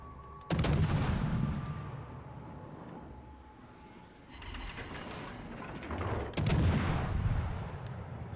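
Heavy naval gun salvos in the warship battle game World of Warships: Legends, from the battleship Izumo: a loud broadside boom, a sustained rumbling roar, then a second loud salvo with a long echoing tail.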